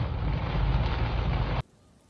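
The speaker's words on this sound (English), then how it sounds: "امطار غزيرة ورياح هابطة وصواعق." A heavy storm in Mecca with downpouring rain and strong winds gives a dense, loud roaring wash that stays steady and then cuts off abruptly near the end.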